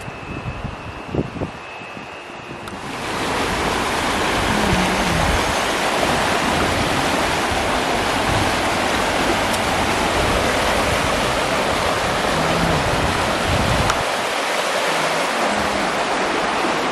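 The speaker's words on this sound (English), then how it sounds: "Look how nice the river is." The White River in Ocho Rios, Jamaica, rushes loudly with a broad, steady roar of flowing water that swells in after a few quieter seconds and then holds constant, with no talking.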